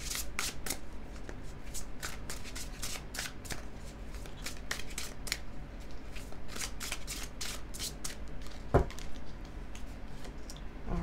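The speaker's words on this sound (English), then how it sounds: "Let's draw you another fairy oracle card for the week." A deck of fairy oracle cards is shuffled continuously at close range, a quick, steady run of soft papery flicks and riffles lasting several seconds, with no speech over it.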